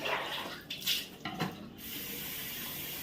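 Tap water runs during hair washing, a close splashing stream that is loudest at first, with a few brief surges before settling into a steady, softer flow.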